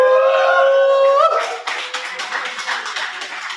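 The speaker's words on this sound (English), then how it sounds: "let's clap it up for the homie Nick, y'all." An audience at an open mic poetry night claps for the performer Nick, a burst of applause beginning just over a second in and continuing as a dense patter after a brief sustained tone.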